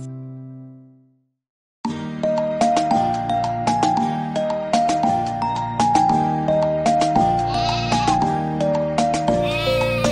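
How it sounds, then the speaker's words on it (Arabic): A sheep bleats briefly at the start, a short wavering cry that fades out, followed by a bright, bouncy children's song melody with steady rhythm. "عندي خروف أبيض أبيض أبيض"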